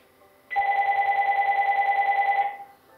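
A home phone rings once, a bright electronic trilling tone lasting about two seconds with a rapid warble, loud and clear against a quiet room, no talking.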